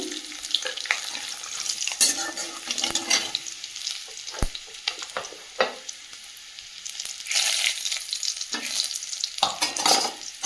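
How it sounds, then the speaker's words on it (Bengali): Whole cumin, cardamom, cloves and garlic fry in hot oil with an irregular crackle and sizzle, broken by clicks and clatters of a utensil in the pan. Sound comes in uneven bursts with short quiet gaps. "তেলের মধ্যে সামান্য একটু গোটা জিরে দিয়ে দেবো"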